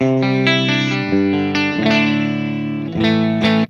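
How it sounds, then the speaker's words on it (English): Electric guitar through a Mesa Boogie Mark VII on channel 2 set clean, ringing chords that change every second or so, loud and close with no talking. "channel 2, you can make your clean sound"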